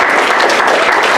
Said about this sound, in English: I'd love a round of applause